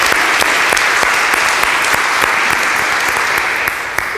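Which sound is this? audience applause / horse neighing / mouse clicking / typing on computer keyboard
audience applause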